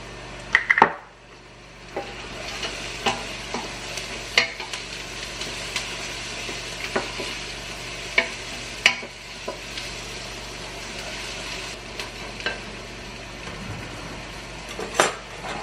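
Garlic and thyme sizzling in a pot for roasted cauliflower soup, a soft, even frying hiss up close, with a few light clinks of a utensil against the pot.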